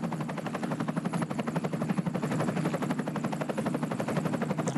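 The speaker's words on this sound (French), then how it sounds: "Hélico." A helicopter flies over a cycling race, its rotor blades chopping in a fast, steady thumping rhythm that stays loud and close throughout, with no voices.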